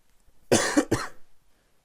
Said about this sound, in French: Excusez-moi, j'ai encore toussé, un petit peu malade encore.